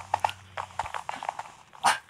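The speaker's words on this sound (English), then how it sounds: "Sorry, those were my dogs." Several dogs bark inside a house in a quick run of short yaps, with a sharper, louder bark at the end. The barking is brief and fairly close.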